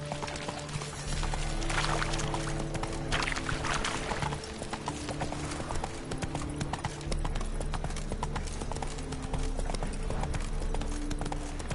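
Roach the horse gallops in The Witcher 3, steady clip-clop hoofbeats thudding continuously over a layered game score with no voices.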